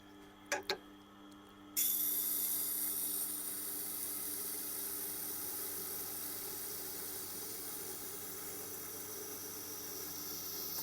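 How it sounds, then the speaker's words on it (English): A knife is ground on a sharpener's fine setting: after a couple of sharp clicks, a steady, even grinding hiss starts and runs continuously at a close, moderate level. "And I'm grinding on the fine setting"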